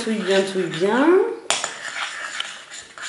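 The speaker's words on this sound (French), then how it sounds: "On touille bien pour bien mélanger." A spoon stirs a homemade slime mixture in a bowl, giving clinking, scraping strokes while a person talks at first and then goes quiet.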